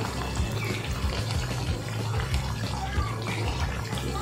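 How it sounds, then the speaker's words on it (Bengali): Snacks deep-frying in hot oil until red, a dense continuous sizzle and crackle that holds steady throughout with no pauses. "কালার ছাড়াই আমি লাল লাল করে ভেজে নিচ্ছি"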